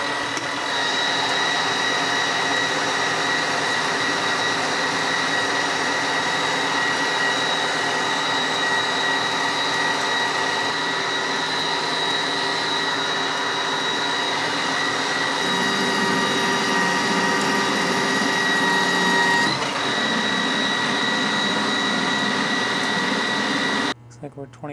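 A Lion lathe rough turning a part down to 1 inch runs as a continuous close mechanical whir with a steady tonal whine, shifting slightly partway through and cutting off at the very end.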